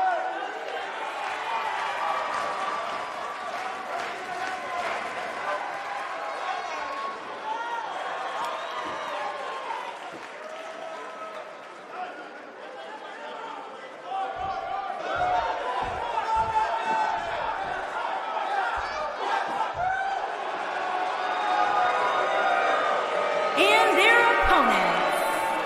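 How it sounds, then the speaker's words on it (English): Dense arena crowd noise from the WWE 2K19 wrestling video game, a continuous roar of cheering and chatter swelling louder toward the end, with commentators talking over it. "it sounds to me like the crowd is more than ready for this one"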